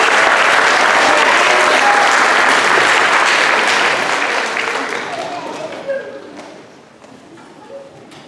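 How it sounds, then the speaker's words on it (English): Loud, dense applause from a middle school orchestra concert audience honoring three soloists, sustained for several seconds before tapering off toward the end. "let's give one more round of applause to all three brave soloists tonight"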